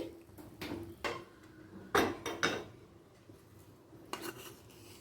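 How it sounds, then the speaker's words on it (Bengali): Cooked rice-pumpkin and mung dal curry being moved into another pot brings several close metallic clinks and scrapes of a spoon against the pans, some sharp and some soft, set apart by quiet gaps. "এবার অন্য পাত্রে ঢেলে নিলাম"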